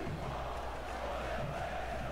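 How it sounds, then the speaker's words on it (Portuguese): A football crowd in a FIFA match on the Sport club's home ground roars and chants in a steady, dense wash of sound that holds for a couple of seconds, with no commentary over it. "Olha a torcida aí vibrando,"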